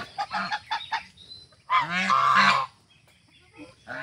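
Loud honking duck calls, a short burst then a sustained noisy squawk lasting about a second, with quieter calls scattered before and after.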